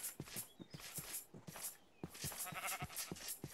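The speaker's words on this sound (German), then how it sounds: "Guck mal, nackte Schafe, nackte Schafe." Sheep bleating in Minecraft, a few short game bleats popping up amid busy game sounds and footstep-like thuds, fairly close and moderately loud.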